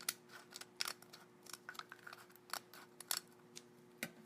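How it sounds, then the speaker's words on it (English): Small scissors trim the edge of an eggshell opening in a quiet setting, a series of faint, close snips and tiny cracks scattered irregularly. "I'm just going to keep trimming until I like the size of that opening"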